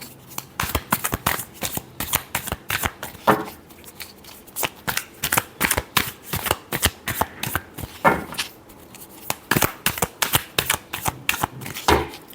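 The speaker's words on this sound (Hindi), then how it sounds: "last shuffle" Tarot cards being shuffled up close, a steady run of quick riffling bursts and soft slaps repeating across the whole stretch, with no voice over them.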